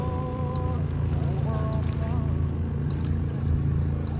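A steady low engine drone of a motorboat near a boat ramp runs throughout, loud and continuous, with some faint higher tonal sounds over it.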